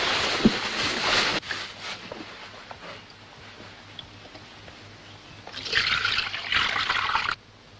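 Water is poured out in two splashing bursts, one at the start and another near the end, with quieter trickling and dripping between them, close by and with no talk.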